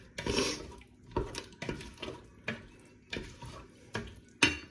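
A homemade chilli mixture gets stirred in a pot, with a spoon scraping through it in regular strokes, about one every half-second to second, close and clear with no talking.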